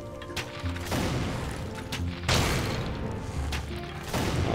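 Heavy shots ring out in the video game Trine, a dense volley of booming blasts with a mechanical clatter, another loud burst hitting midway, with no speech.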